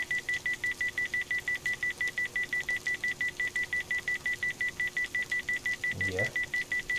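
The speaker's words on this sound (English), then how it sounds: "Somebody stop that goddamn beeping." Electronic beeping in the DayZ video game, a rapid, regular high-pitched pulse repeating continuously at moderate volume, with a brief low voiced sound near the end.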